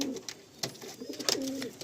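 Restless Chotiyal pigeons coo softly in short throaty phrases, close by and clear, with light rustling between calls.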